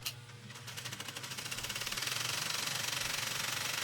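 A sewing machine stitches upholstery fabric along marked lines, starting slowly and speeding up into a fast, steady mechanical chatter with even, rapid beats. No voices are heard.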